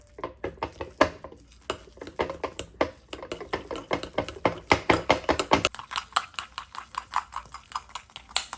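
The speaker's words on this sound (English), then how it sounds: "Mix this up." Powdered peanut butter being stirred with water in a bowl, a steady series of quick scraping and tapping strokes from a utensil, close and moderately loud.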